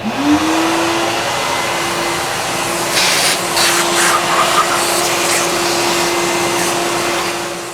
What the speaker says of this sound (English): let's get the vacuum here.